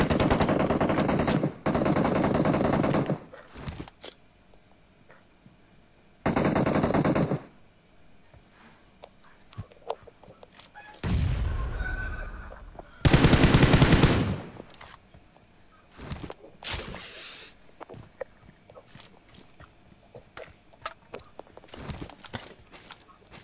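Gunfire in the PUBG Mobile shooter comes in several loud sustained bursts of automatic fire separated by quieter stretches, with scattered single shots and clicks between them.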